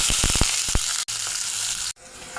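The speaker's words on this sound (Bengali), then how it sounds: "প্রথমে আমি বেরেস্তা ভাজবো" Chopped onions fry in soybean oil for beresta, crisp onions for chicken haleem, giving a loud, steady sizzling hiss with a few sharp utensil knocks near the start and two brief dropouts.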